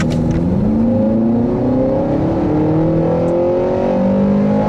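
A 2016 Acura ILX with a 2.4-liter engine and 8-speed transmission accelerates hard from inside the cabin, engine tone climbing steadily through the gears with a brief shift dip, loud and continuous.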